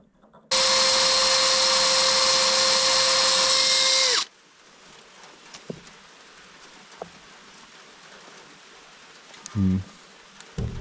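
A power drill with a freshly sharpened bit whines loudly at a steady high pitch for several seconds while working on a Kirovets tractor's 3-point hitch, then stops, leaving quiet room noise with a few faint clicks and knocks.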